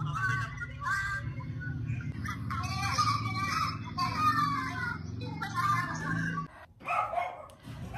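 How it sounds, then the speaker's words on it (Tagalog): A dog barks over a busy scene of children's chatter and play at a volleyball game, the barking mixed in with the voices rather than standing out alone. "Ang ingay ng aso."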